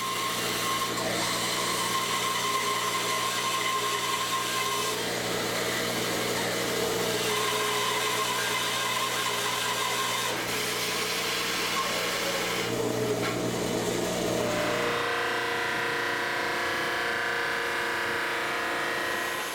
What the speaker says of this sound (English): And we'll bring it over to the bandsaw.